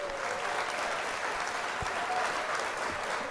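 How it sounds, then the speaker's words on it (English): A round of applause plays at an even level throughout, a dense wash of many clapping hands with no pauses or voices over it, like a crowd cheering at the end of a performance. "Round of applause."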